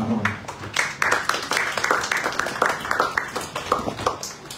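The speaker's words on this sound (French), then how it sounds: "Applaudissez pour la parole." A church congregation at a Sunday service applauding, with dense, steady clapping throughout and a faintly rhythmic pulse.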